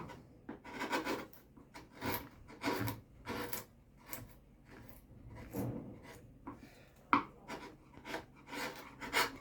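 Hand carving of a wooden bas-relief panel, cutting a sloped plane: repeated short scraping and gouging strokes at close range, irregular and fairly quiet, with the occasional sharper tap.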